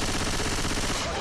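Dense, continuous automatic gunfire from the zombie shooter Left 4 Dead 2 in a swamp level, rapid loud shots packed tightly together with no pause and no talk.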